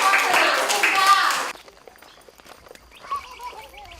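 An audience claps in a dense, lively burst for about a second and a half, then falls silent, leaving faint voices and light sounds afterward.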